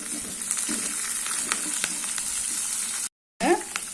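Sliced onion, two dried red chillies and curry leaves frying in hot oil for tiffin sambar, a loud continuous sizzle with crackles and stirring clicks, broken by a brief silent gap near the end.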